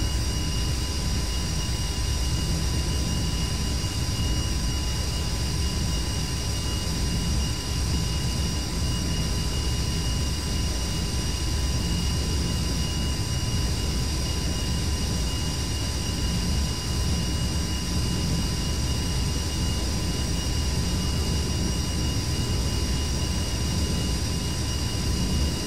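A-10 jet aircraft engine in the DCS flight simulator game drones steadily and loudly, an unbroken whine and rumble holding at constant level throughout with no talk.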